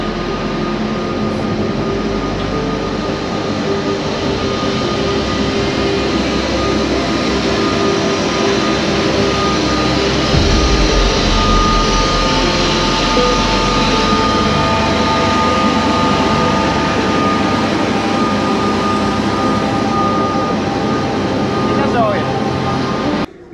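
Train pulling into a Budapest station platform, a loud sustained rumble and hum with faint squealing tones, steady and close for the whole stretch.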